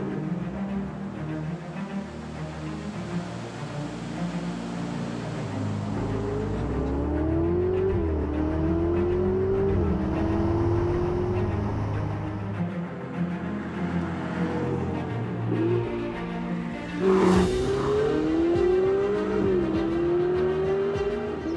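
Ferrari 488 GTB with its 3.9-litre twin-turbo V8 on the road, the engine droning and rising through repeated revving gear pulls from inside the car, loud and steady with no talking.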